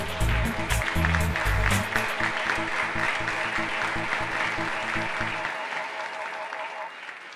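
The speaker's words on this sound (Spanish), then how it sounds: "un aplauso para todos" An audience claps together at an event, a dense sustained applause that begins loud and thins out toward the end, with a voice speaking over it.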